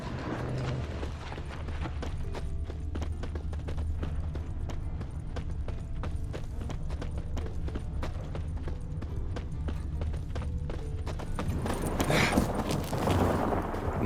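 A warhorse's hooves clip-clop at a steady, regular pace on hard ground in the fantasy RPG The Witcher 3, close and continuous, with a louder rumble rising near the end.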